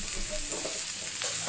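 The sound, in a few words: stirring fried chicken pieces in a pan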